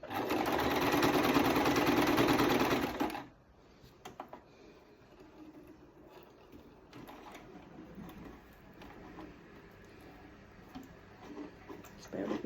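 A sewing machine stitching a sunglasses pouch runs in a loud, steady burst for about three seconds and then stops, followed by quieter rustling and handling noises.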